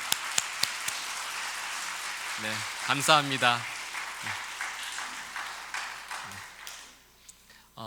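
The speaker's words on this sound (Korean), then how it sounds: "우리 잠깐 두 분 일어나시면 우리 환영의 박수할까요?" A Korean church congregation gives welcoming applause, a broad wash of clapping at moderate volume that gives way to someone speaking briefly before the clapping fades.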